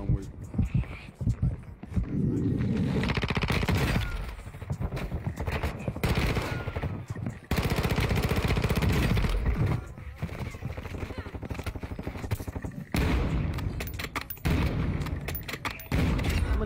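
Gunfire in the video game Warzone 2, with dense bursts of rapid shots and loud sustained volleys broken by short pauses, heard alongside game sounds and players talking.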